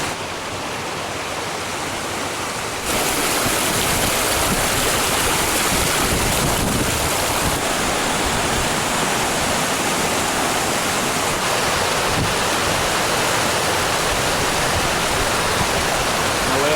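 A shallow mountain stream on the Timberline Trail rushes steadily, a loud continuous wash of water that grows fuller after the first few seconds, with some wind buffeting.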